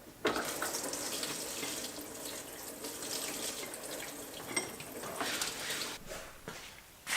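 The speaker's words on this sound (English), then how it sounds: "Just pull one off and we should be able to dump the fuel." Fuel drains from a pulled fitting at the bottom of a fuel cell tank in a continuous splashing, trickling pour that runs for several seconds, moderately close and fairly quiet, with a few small knocks and no talking.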